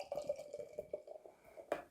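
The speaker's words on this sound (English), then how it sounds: "So we're going to give it a pour here" Double Motueka Daydream imperial oat cream IPA from Other Half Brewing Co. pours into a glass, a soft, close run of drips and gurgles with a brighter splash near the end.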